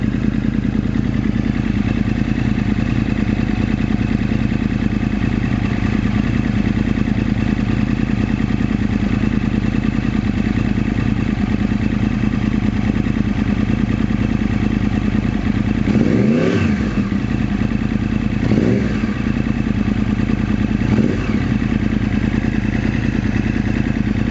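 A 2009 Yamaha R1 motorcycle engine idles with a steady rumble after a coolant change, then gets three sharp revs in quick succession near the end, close by.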